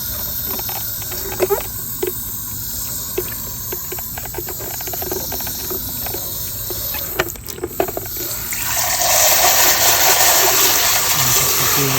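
Tap water runs while a dirty Shark Duo Clean vacuum cleaner compartment is washed: a close hiss with scattered plastic knocks and clatters, then the flow grows louder and fuller toward the end, with no talking.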